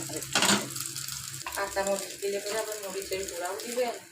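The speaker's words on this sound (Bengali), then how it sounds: "ডিম দেওয়া মাত্র তেল ছিটাই উঠবে একদম" An egg fries in hot oil in a pan, with crackling sizzle and spattering bursts plus some stirring or scraping, heard close up while people talk over it.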